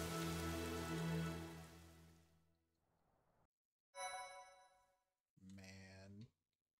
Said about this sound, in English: Cried so much it started raining.